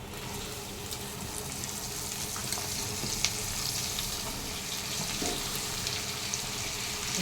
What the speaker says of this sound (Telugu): ఇగో పసుపు వేసినాక బెండకాయలు వేసేసుకుందాం